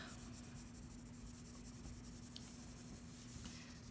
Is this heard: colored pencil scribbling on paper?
yes